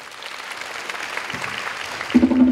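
An audience applauds at a high school dance competition in a large hall, with a steady wash of crowd clapping that swells toward the end as a tone and voice come in.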